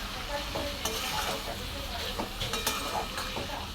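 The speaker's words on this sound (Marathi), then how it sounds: "थोडासा शेंगण्याचा कूट टाकून घेऊ आपण याच्यात असं मिक्स करून घेऊया आपण" Ivy gourd vegetable with crushed peanuts is stirred in a hot pan: a continuous sizzle broken by repeated scraping and clinking of a spatula against the pan, close and busy throughout.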